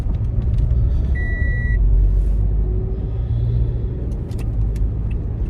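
Cars and heavier traffic rumble past loudly on a nearby road, a continuous low roar with a brief tonal beep partway through and no voices.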